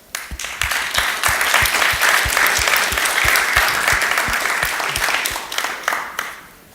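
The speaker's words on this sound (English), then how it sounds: "give a big applause to Chris Coney" A crowd at a live cryptocurrency event applauds a speaker, dense clapping that swells quickly, holds strong for several seconds, then tapers off, with a steady series of low thumps running through it.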